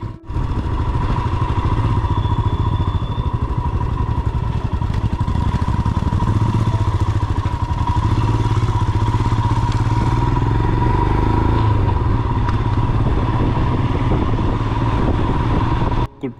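A Royal Enfield Himalayan motorcycle rides on a monsoon road from Athirapilly to Valparai, its engine a loud, steady, close drone that runs unbroken for the whole stretch, mixed with wind rush and road clatter.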